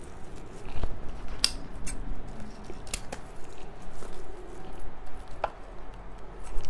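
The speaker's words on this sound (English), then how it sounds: "and then we'll cut it to fit." Scissors snip through a paper craft strip for a snowman decoration in a few sparse, sharp cuts spaced over several seconds against a quiet room hum.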